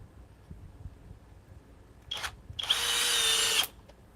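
A cordless power drill whirs in two bursts, a brief spin followed by a longer, loud, high-speed run of about a second, against a quiet background with faint knocks, no talking.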